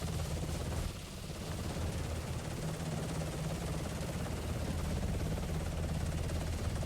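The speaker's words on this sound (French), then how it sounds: "là, on va embarquer dans l'hélicoptère" Helicopter in a zombie survival video game, a steady droning rotor and engine roar held at an even level throughout, with no voices.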